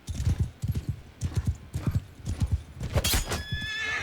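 Horse hooves clatter in a fast galloping rhythm in the Mount & Blade II: Bannerlord video game, close and steady, with a horse whinny near the end.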